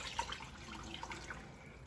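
Two cups of water go into a saucepan over raisins and spices for a Canadian war cake, a faint, soft trickle broken by a few small drips and splashes.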